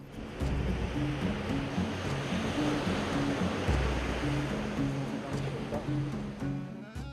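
Small waves wash in a clear-water bay at Santa Marta near the mouth of the Manzanares river, a steady broad surf hiss under a low, faint tonal layer in the background.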